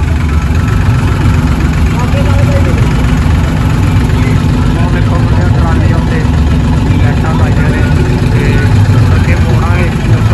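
Modified tractor engine idling while standing in line on the road to Fatehgarh Sahib, a loud, steady low diesel rumble close by and unbroken throughout.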